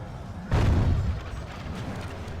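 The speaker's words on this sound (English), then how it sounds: "And our catapults are about to fire." Catapults fire in a Medieval II Total War battle running the Broken Crescent mod, one heavy booming launch whose low rumble rolls on for about half a second before fading into steady battlefield noise.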